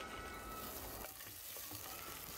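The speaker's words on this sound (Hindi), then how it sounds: "इधर तेल गरम हो गया है इसमें मैंने प्याज ऐड कर दिया है" Onion sizzles in hot oil in a pan, a steady close hiss and crackle that holds evenly throughout, with no speech over it.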